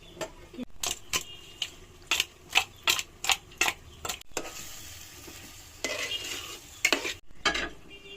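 Fish frying in a pan with turmeric and chili: a spatula scrapes the pan in a quick rhythmic run of strokes, then bursts of sizzling rise between further stirs, all near and fairly loud.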